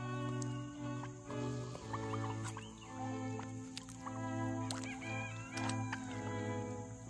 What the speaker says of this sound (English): Turkey ducks, we got turkey ducks